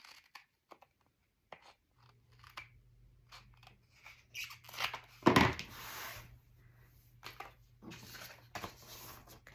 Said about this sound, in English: And cut the pocket.